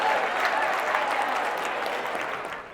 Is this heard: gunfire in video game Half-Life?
no